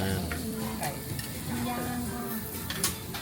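Meat sizzles and fries on a Korean barbecue grill at a Seoul restaurant, a steady crackling hiss filling the whole span with occasional clinks of utensils and background restaurant chatter.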